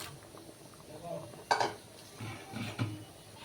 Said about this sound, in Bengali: এবার আমি ভেজে রাখা সয়াবিনগুলো ঢেলে দেব